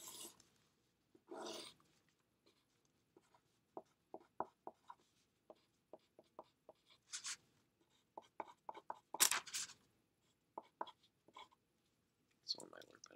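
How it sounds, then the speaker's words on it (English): Pen drawing on a sheet of paper during a lecture, with short scratchy strokes and taps in irregular bursts, close and fairly quiet, mixed with brief bits of speech. "actually draw it on the sheet of paper."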